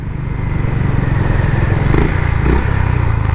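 A Honda Highness CB350 single-cylinder motorcycle idles and revs nearby, a loud steady thumping exhaust rising and falling slightly in pitch, alone without talk.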